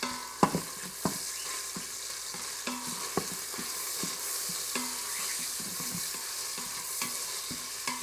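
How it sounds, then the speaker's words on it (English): Bacon fries in an Instant Pot with a continuous bright sizzle, punctuated by scattered taps and scrapes of a utensil stirring, close and with no talking. "You really want to make sure you render out the bacon fat."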